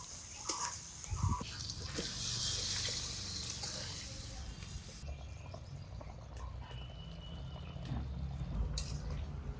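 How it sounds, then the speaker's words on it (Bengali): Water poured into a frying curry in a wok for a rohu fish curry: a short splashing burst early on, then a steady bubbling hiss, quiet and close. "এখন ঝোলের জল দিই"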